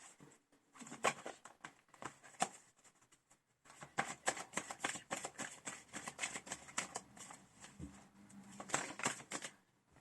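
Tarot cards are shuffled and handled close up during a Christmas reading, giving quiet rapid riffling and flicking in irregular bursts, with a short lull early on and no talking.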